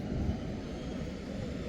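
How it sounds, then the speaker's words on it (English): A fixed-wing plane's engine starts up in the background, a steady, broad droning roar held at even loudness throughout, somewhat distant and with no talk over it. "There's a plane starting up in the background."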